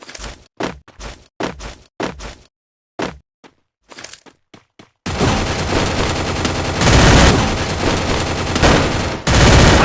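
MP5 submachine gun fire in the Free Fire video game: loud, close bursts of rapid shots in separated volleys, then a dense, sustained barrage of heavy gunfire and explosions.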